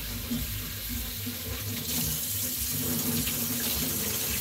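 Tap water runs steadily into a sink while food is washed for a meal of stewed lentils, fried fish and chow mein, a continuous close splashing stream with no talk.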